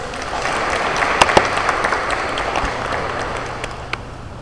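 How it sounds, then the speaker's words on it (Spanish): An audience at a medical lecture on adrenal insufficiency applauds a doctor speaker, with a continuous wash of clapping and a few sharper individual claps standing out, moderately loud and filling the room. "sus grandes aplausos, por favor, para el doctor"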